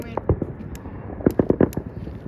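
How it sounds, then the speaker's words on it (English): Small fireworks pop and crackle outdoors in a quick irregular series of sharp close bangs, a few at first and then a dense cluster, with voices talking underneath. "It's the most anticlimactic fireworks we've ever done."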